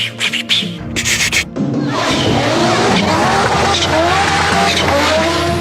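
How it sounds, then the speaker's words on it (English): An Audi five-cylinder engine, turbocharged with wastegate flutter when lifting off the throttle, roars loudly and continuously alongside tire squeal, following a few brief bursts at the start. "The second thing is the sound of a 5-cylinder engine."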